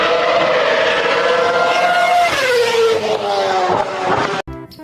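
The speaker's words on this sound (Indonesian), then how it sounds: "Wah, mobil balap F1." A toy F1 race car emits a high, whining electronic engine tone that revs and then drops in pitch, loud and close, cutting off abruptly near the end.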